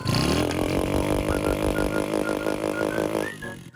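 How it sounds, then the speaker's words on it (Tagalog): A secondhand motorcycle fitted with a rapid backfire exhaust kit revs hard and steadily for several seconds, its loud, buzzy engine note rising and wavering before cutting off abruptly near the end. "kinabitan niya daw ng rapid backfire at gusto niyang ipakita sa akin kung gaano ka-effective ang kanyang ikinabit"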